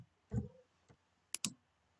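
A few sharp, close keystrokes on a computer keyboard as a spreadsheet cell is renamed, heard as scattered isolated clicks in a quiet room, with no talk.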